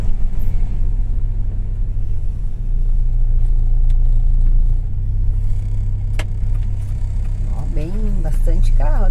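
Cars move along a windy beach road on the northern coast of Rio Grande do Sul, heard as a loud, steady low rumble from inside a vehicle, with a person talking briefly near the end.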